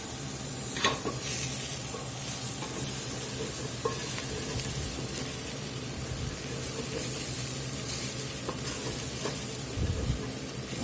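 Garlic and browning flour sizzle in a pan for a Cajun meatball gravy, a dense, even frying hiss held close throughout, with faint stirring scrapes and no voices.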